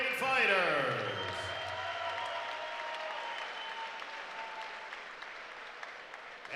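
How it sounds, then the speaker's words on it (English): A fight night crowd at a Muay Thai event applauds two fighters after the bout, loud clapping and cheering that swells at first and then settles into a steady, fading roar beneath an announcer's voice. "a round of applause for two great fighters"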